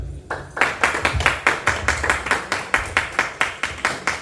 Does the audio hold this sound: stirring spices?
no